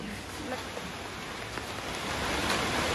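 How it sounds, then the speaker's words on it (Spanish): Rain pouring down outdoors during a thunderstorm, a dense steady hiss that swells slightly toward the end, with faint voices in the background. "Y ya nos cayó la lluvia"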